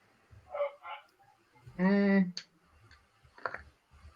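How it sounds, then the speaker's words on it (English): A dog barks in the background during a tabletop Pathfinder game session, a few short yelps with one louder, sustained bark in the middle, mixed with people talking and faint clicks. "The dog is getting louder."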